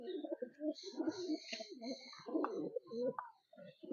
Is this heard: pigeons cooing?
yes